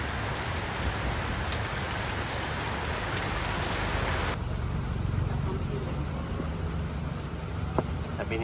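Heavy, steady typhoon rain pours down as a dense roar, with the hiss dropping noticeably partway through before continuing at a lower level.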